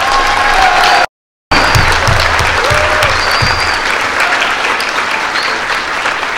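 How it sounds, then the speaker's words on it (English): Audience at a high school Rube Goldberg contest gives the teams a big round of applause, loud dense clapping close by that briefly cuts out, then carries on steadily with some cheering. "let's give these teams a big round of applause."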